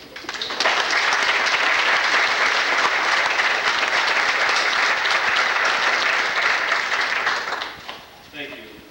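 A crowd at a city Black History program gives loud, sustained applause to welcome a speaker, a thick, even burst of clapping that fades near the end as a voice briefly begins to speak.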